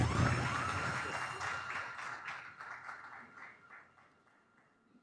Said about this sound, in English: I believe that it deserves a round of applause